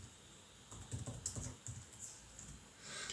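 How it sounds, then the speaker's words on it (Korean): Typing on a computer keyboard during a classroom remote-control software demonstration, a quiet run of soft, irregular key clicks close by, with no talking. "이제 제가 키보드를 입력해도"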